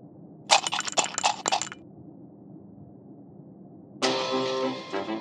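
A ceramic piggy bank is smashed in the video game Amanda the Adventurer 2, giving a sharp burst of breaking and cracking with clinking shards, then a brief pause before a loud sustained game tone.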